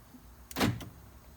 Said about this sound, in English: the doors unlock